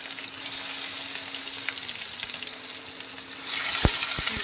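Chopped onion sizzles in hot oil in a pan, a steady close hiss that swells louder near the end as a couple of faint knocks sound, with no voices.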